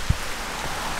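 Heavy rain pouring in Bratislava during a storm, a dense, steady hiss of drops on surfaces with one soft thump near the start, loud and close.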